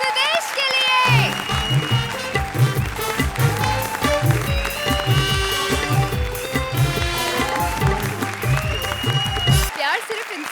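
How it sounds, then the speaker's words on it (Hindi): Loud applause for the comedians Krishna and Sudesh on a Kapil Sharma comedy show, sustained clapping mixed with music and crowd noise, full and close for most of ten seconds. "जोरदार तालियां कृष्णा और सुदेश के लिए"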